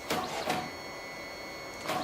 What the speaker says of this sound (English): And now the printer started making my prints.